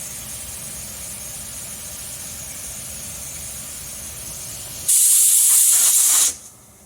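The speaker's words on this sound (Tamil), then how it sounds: "ஸ்டீம் வந்தோடனையும் வெயிட் போட்டு ஒரு 2 விசிலில் ஆஃப் பண்ணிக்கிறேன்" A pressure cooker on the stove cooking black kavuni rice porridge lets out a sudden loud hissing whistle of escaping steam for about a second and a half, then cuts off, over a low steady background rumble.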